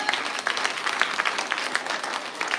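Loud, dense clapping from a kirtan audience at a Vitthal-Rukmini temple, many hands beating steadily and fairly close with no pause across the whole stretch.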